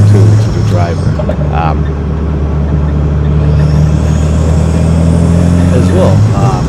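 A Mazda RX-7 FD3S rotary engine drones loudly inside a gutted cabin with a full roll cage, a steady low hum under continuous road and wind noise, with a brief voice near the end.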